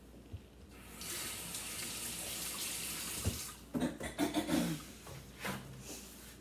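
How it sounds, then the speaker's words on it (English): Steady rush of water from a kitchen tap while hands are rinsed, a broad continuous flow that breaks into splashes and wet rubbing near the end before tapering off. "I'm gonna rinse my hands off."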